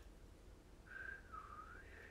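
A young woman tries and fails to whistle, making a steady airy hiss of breath with only a faint, wavering tone breaking through partway in.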